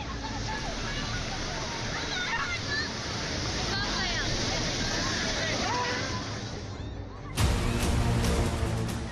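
Rushing monsoon floodwater current, a loud continuous roar and slosh of fast water that holds steady, then swells more harshly near the end, with a voice talking over it.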